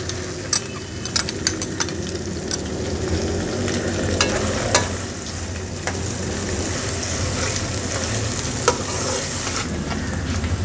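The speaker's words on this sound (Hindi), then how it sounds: "अब मैं इसमें प्याज डाल दूंगी।" Onions sautéing in a pan for Pakistani daal mash, a steady close sizzle with occasional sharp spoon clicks against the pan, no talking.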